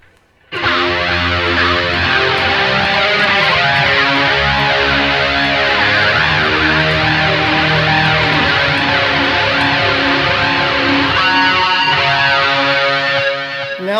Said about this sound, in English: Now it's kind of chorusy and warbly